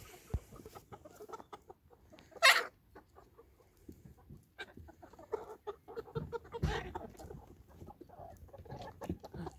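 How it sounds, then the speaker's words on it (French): Hens cluck and squawk noisily in a coop at roosting time, a dense, busy chatter of many birds with one loud squawk burst standing out near the start. "Les poules sont en train de me faire un rude vacarme."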